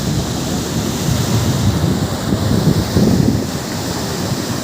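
Rising-tide sea surf at Kuakata beach roars loudly and steadily, with broad crashing washes of waves layered over gusty wind noise on the microphone and no voices.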